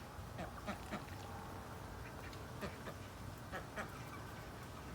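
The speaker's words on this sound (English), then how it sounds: "And the ducks and the chickens are having a yummy breakfast." Ducks on a farm quack repeatedly over breakfast alongside chickens, the calls coming in quick irregular bursts over a steady background hum.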